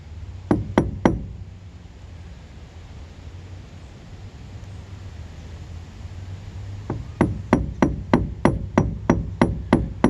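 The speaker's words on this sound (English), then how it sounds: "I'm going to peen over one side until it holds the strap in place" Ball peen hammer peening chainsaw chain rivets by hand: three quick sharp metallic taps, a pause with low background hum, then a steady run of about ten evenly spaced ringing strikes, close and clear.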